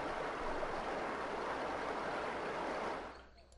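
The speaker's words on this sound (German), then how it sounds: "wir können das Wasser runterlassen" Water rushes out as it is let down in the puzzle game Tengami, a steady loud gushing flow that fades away over the final half second.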